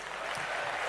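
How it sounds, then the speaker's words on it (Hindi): A short burst of steady applause from an audience, clapping evenly without voices over it. "प्रभा जी के लिए जोरदार तालियां।"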